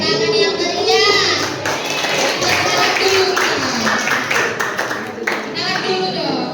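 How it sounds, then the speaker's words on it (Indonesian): Junior high students at a school outreach session in Indonesia clap enthusiastically, a dense, loud round of applause lasting several seconds with children's voices and speech mixed in. "kita beri tepuk tangan yang meriah"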